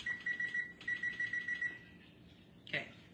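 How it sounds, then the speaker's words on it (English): A kitchen timer is set and then beeps, giving rapid high electronic beeps in short repeated bursts, followed by a brief chirp, all fairly close and clear over faint room noise. "Let's set a timer for 10 minutes."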